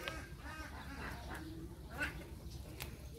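Laying hens in a coop, clucking and murmuring softly in a low, continuous chorus with occasional sharper calls, faint and close.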